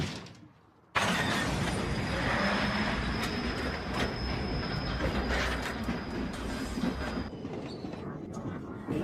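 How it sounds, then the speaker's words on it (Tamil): An animated train runs loudly and steadily in a cartoon action scene. A sudden start is followed by a continuous rumble of wheels and mechanical clatter, with a faint high squeal running across it. "ஒழுங்கு இந்த ட்ரெயின் நிப்பாட்டு."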